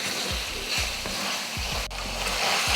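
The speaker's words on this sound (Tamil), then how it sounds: "இந்த சிக்கன் வந்து இந்த மசாலா கூட வதங்கட்டும்" Chicken pieces fry in oil with masala paste for a chicken curry, a steady loud sizzle running throughout with repeated low scraping stirs and clunks of a spoon against the pan.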